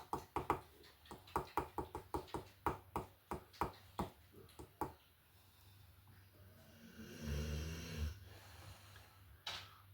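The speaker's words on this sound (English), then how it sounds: "You ain't sleeping, so stop snoring." Rasping snoring during an indoor woodburning craft session, swelling into a low, breathy rumble in the latter half after a run of sharp, evenly spaced knocks; close and fairly quiet.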